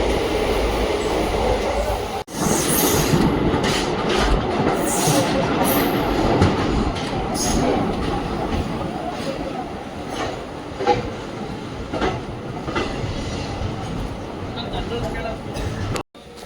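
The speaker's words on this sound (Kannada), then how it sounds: "ಹಿಂಗೆ ಓಡ್ತಾ ಇದೆ ವಿಶ್ವಮಾನವ" Vishwamanava Express train running from Mysore to Belagavi, a loud continuous rumble of wheels on track with faint clicking and occasional clatter, briefly dipping near the start and end.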